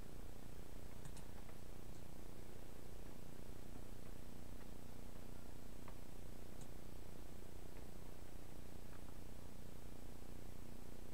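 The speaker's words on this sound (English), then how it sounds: "So we've got a white noise generator" A white noise generator in an electronics circuit setup gives off a steady, faint broadband hiss that holds unchanged throughout, with a few tiny ticks scattered over it and no voices.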